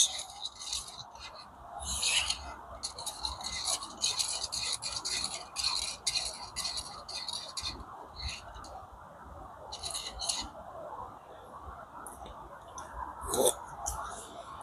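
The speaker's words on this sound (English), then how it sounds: "Just give it a mix." Cherry-flavoured British army ration drink stirred in a cup, a quiet continuous scraping and swishing that runs in irregular bursts, faint and close.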